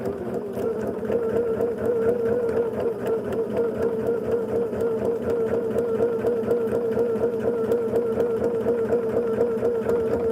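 A sewing machine stitches along a marked line on a quilt block, running at a fast, even, rhythmic clatter for the whole stretch, close and alone without speech.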